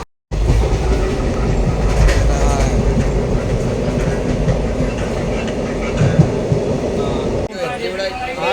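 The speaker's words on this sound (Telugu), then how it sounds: "ట్రైన్ వచ్చింది, జహీరాబాద్ టు కాజీపేట్." A passenger train on the Zahirabad to Kazipet run rumbles loudly and steadily close by, with rhythmic wheel clatter throughout and a sudden shift in tone near the end.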